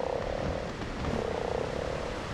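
Beelzebufo, a giant frog in the game ARK: Aberration, croaking in a steady rapid pulsing rhythm that runs throughout, fairly close and alone with no talk.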